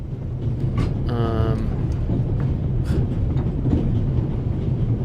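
A train rolls along rails in a video game, a steady low rumble with a brief squealing screech early on, heard under ongoing conversation.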